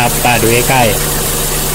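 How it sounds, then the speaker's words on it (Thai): A car engine idles steadily as its air-conditioning compressor engages, a constant low mechanical hum heard up close beneath someone talking. "เห็นไหมเสียงเครื่องยนต์จะเปลี่ยนไปนะครับ"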